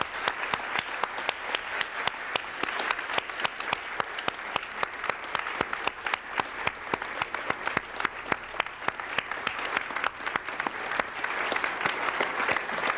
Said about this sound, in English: Please also applaud Dwight.